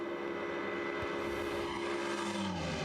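Race car number 6 at the Nürburgring, on the Döttinger Höhe straight during 24-hour race qualifying, roars with a loud, sustained engine drone that shifts in pitch as it passes, with no voices.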